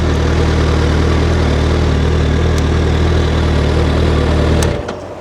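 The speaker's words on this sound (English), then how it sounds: "Let's switch it off anyway because the fans have come on." Suzuki Hayabusa GSX1300R 25th Anniversary motorcycle engine idling steadily with its cooling fans running, a loud close, even low drone with a constant fan hiss, cutting out near the end as the engine is switched off.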